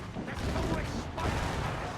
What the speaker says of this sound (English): Where are the mortars coming from?